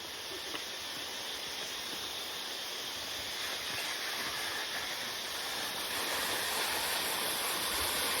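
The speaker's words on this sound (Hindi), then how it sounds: "साइड में वाटरफॉल देखो दिख रही है।" Steady broadband rushing of a waterfall beside a hiking trail, a continuous wash of falling water that grows slightly louder toward the end, with no voices.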